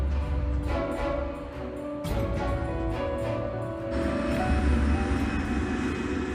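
KLM airliner's jet engines rumbling as it sits on a fogbound runway, a steady loud roar with tonal whine and a shift in pitch partway through, no talking.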